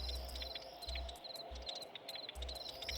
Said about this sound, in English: The swarm of rats will follow you relentlessly